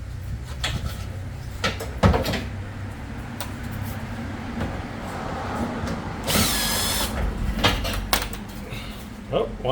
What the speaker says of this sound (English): Where is that drill?